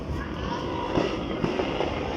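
Continuous rumbling crackle with scattered sharp pops of New Year 2024 fireworks going off at a distance, dense and steady throughout.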